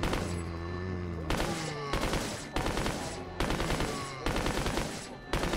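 Gunfire from a Resident Evil 4 prototype remake video game: repeated bursts of loud, rapid shots in several volleys separated by brief breaks, close and dense with no talking.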